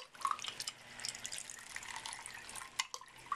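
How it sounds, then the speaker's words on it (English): Water from a pump-fed vertical holding tank pours into a container, a faint, steady trickle with small drips and splashes. "From the vertical holding tank, the water can go down into this container"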